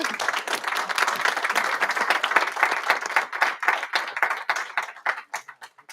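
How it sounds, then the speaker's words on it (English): Audience applause at the European Young Chef Award 2022 cooking competition, a dense round of clapping that thins out toward the end into scattered individual claps. "A big round of applause."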